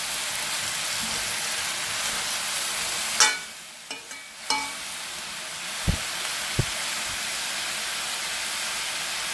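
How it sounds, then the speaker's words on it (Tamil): Onion and tomato sautéing in oil with bitter gourd give a steady, even sizzle, broken by a few soft clinks of a spoon against the pan. "இந்த எண்ணெயில் வெங்காயம் தக்காளி சேர்ந்து நல்லா வதங்கி வரட்டும்."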